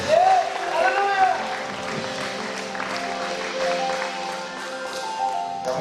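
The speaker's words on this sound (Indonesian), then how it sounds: "mari berikan tepuk tangan yang meriah bagi Allah kita" A church congregation at a Sunday evening service applauds, the clapping blending with raised voices and sung or shouted tones. It is moderately loud and continuous throughout.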